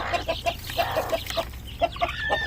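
A mother hen of a native chicken breed clucks repeatedly and close by, in short rhythmic bursts, with a soft farmyard background.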